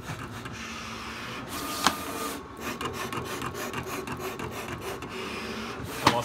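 A Graphtec 24-inch desktop contour cutter slices a printed photo sample, giving a steady close mechanical whir and rasp with two sharp clicks, and no one speaks.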